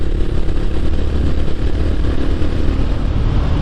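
Air-cooled single-cylinder engine of a 2021 Honda GB350S under way, a steady dense rumble with road and wind noise, no voice.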